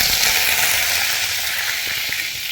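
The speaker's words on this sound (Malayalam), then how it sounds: "അപ്പം വെളിച്ചെണ്ണ ഒഴിച്ചെടുത്ത് കടുക് ഇട്ട് കൊടുത്തിട്ടുണ്ട്. കടുക് പൊട്ടി തുടങ്ങിയിട്ടുണ്ട്." Mustard seeds splutter in hot coconut oil, a dense, bright crackling hiss that stays loud and close for a couple of seconds without speech.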